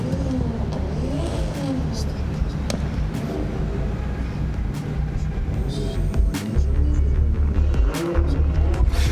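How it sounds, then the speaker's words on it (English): Drift cars at Manfeild Raceway warming their tyres in a pro-sport restricted class round, a steady loud engine rumble with revving, under a commentator's continuous talk. "They're warming those fronts up, just taking that top layer off the rear tyres."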